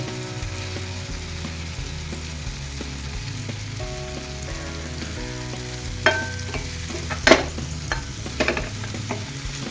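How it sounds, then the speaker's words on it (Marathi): Paneer cubes fry in a hot pan with a low, continuous sizzle, and scattered clinks and scrapes of a spatula stir them toward the end; no one talks. "पॅन गरम झालेला आहे, याच्यात आपण आता पनीर घालून घेऊया."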